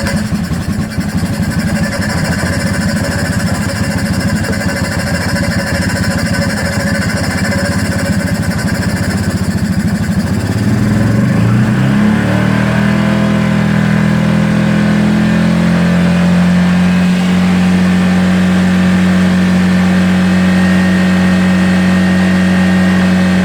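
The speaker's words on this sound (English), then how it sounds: "let's get the machine fired up, and I'll do a fast idle" Machine engine running steadily and loudly up close, shifting partway through into a smoother, steady fast idle with a strong low hum during stator winding resistance testing.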